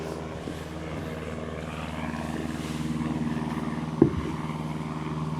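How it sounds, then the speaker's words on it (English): A propeller airplane drones steadily overhead at a construction site where tall walls are being framed, a continuous low hum rising slightly in the middle, with one sharp knock near the end. "see, there's the airplane."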